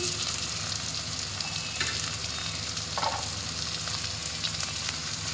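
Chopped tomatoes fry in hot oil for a loitta fish bhuna, giving a loud, continuous close sizzle with occasional stirring scrapes.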